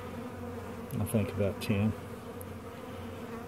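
Honey bees drone steadily at an open hive on a warm day while frames are lifted, with a close, continuous buzz and someone talking briefly over it.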